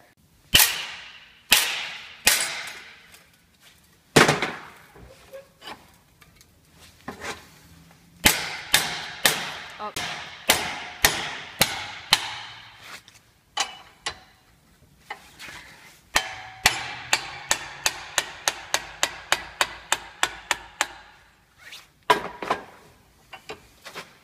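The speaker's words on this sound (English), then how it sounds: "I'm going to just this one time let someone else do the hammering" Steel tube being hammered around a bench vise to form a roll cage wrap, loud sharp metallic strikes coming in irregular bursts, with a fast run of evenly spaced blows late on, near and without talk.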